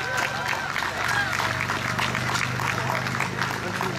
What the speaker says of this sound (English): How about a nice round of applause for our Country Ken Gehret?